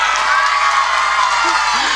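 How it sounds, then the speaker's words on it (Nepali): Applause and cheering from an audience fill a school Parents Day event, a dense, loud, steady roar of clapping and crowd voices that runs unbroken throughout. "Please give him a huge round of applause"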